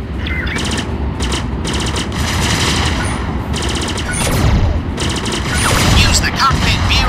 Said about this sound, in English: Press the ZR button to fire your main laser